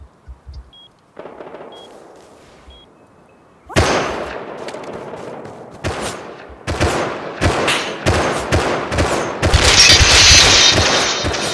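Gunfire in the online PvP survival game Rust, starting with faint scattered shots, then loud dense bursts of rapid fire and impacts from about four seconds on, with no voices.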